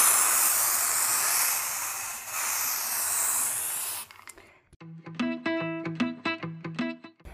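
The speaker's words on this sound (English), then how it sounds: "simply take the hairspray and spray it over your legs." Hairspray sprayed from an aerosol bottle over legs clad in pantyhose, a steady close hissing spray lasting about four seconds, then stopping as tonal music takes over.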